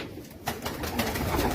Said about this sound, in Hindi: ये सब टैडियों का बच्चे हैं, ये देख सकते हैं आप कबूतर।